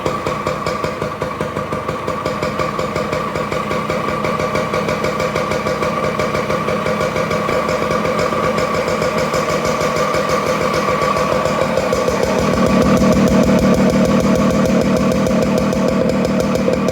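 A Yamaha DT100 motorcycle with ignition trouble idling steadily in a garage, its small engine putting out a rapid, even buzzing putter at close range, with the rumble growing slightly fuller toward the end.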